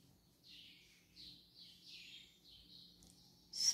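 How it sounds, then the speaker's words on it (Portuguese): A small bird sings faintly in a quiet room, a series of soft, high, warbling phrases in a steady rhythm, ending with a brighter, louder chirp. "Passarinho canta, viu?"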